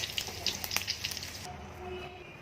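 Mustard oil and panch phoron spices sizzling in a kadai alongside split green chillies, a crackling burst of spattering pops for the first half that settles into a softer, steady hiss close by.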